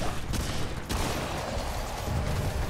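Gunfire in the video game Remnant 2, a few sharp shots cracking over a dense, busy background of in-game noise, moderately loud.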